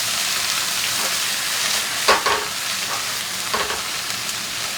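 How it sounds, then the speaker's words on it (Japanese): Frozen seafood with scallion and ginger sizzles loudly in a hot pan as mixed seasoning goes in, producing a steady crackling fry with a few sharper bursts of spatter and stirring. "ここに合わせ調味料入れていきます。"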